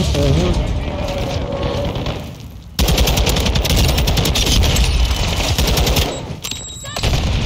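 Video game gunfire rattles in rapid bursts, loud and close, with a short pause partway through and another lull near the end.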